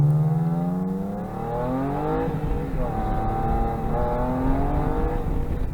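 A turbocharged Porsche Boxster 986 engine accelerates with the wastegate fully open, its loud rising pitch climbing through several gear pulls up close from inside the car.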